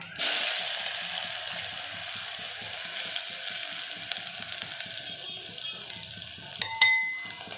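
Chopped medium-size onion dropped into hot oil with cumin and mustard seeds, a sudden loud sizzle that gradually settles into steady frying, with a few utensil clinks and scrapes near the end.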